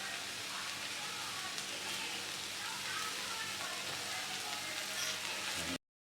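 Spinach and grated coconut mix sautéing in a pan for a Kerala spinach dal thoran makes a constant, dense sizzle, close and even, that cuts off abruptly near the end.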